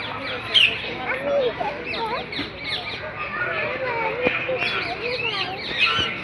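Birds call and chirp at a zoo, many overlapping tweets and whistles at moderate distance, mixed with a busy crowd murmur and voices of people talking nearby.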